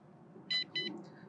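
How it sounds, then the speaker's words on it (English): A Global Drone GD89 MAX GPS drone gives two short electronic beeps as it is switched on, close and clear over faint background hiss. "You will hear this beeping sound,"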